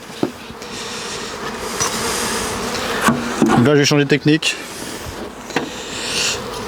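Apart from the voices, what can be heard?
honeybee swarm buzzing near hive box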